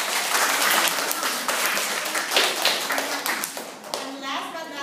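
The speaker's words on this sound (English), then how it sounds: "can we give her a round of applause?" An audience claps in a round of applause for a performer at an instrument demonstration, dense and close at first, then thinning and fading, with a voice speaking briefly near the end.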